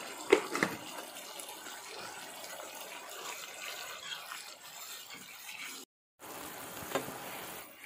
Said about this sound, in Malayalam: അങ്ങനെ നമ്മുടെ അരപ്പ് നന്നായിട്ട് തിളച്ച് വന്നിട്ടുണ്ട്